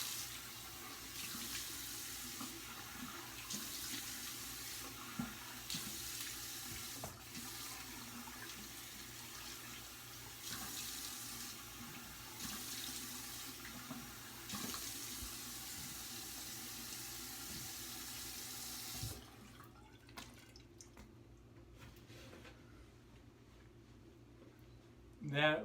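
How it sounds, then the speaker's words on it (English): A bathroom tap runs steadily while a freshly shaved face is rinsed at the sink, a continuous close hiss of water with splashing pulses, then the flow stops near the end; someone speaks at times. "Let's rinse off the face."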